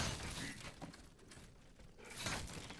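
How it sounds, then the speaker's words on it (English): Barrels smashing in the game Mecha Puppet, a dense crackling shatter that starts loud, dips briefly and flares back near the end, with no voices over it. "It's been a while since smashing barrels has been rewarded."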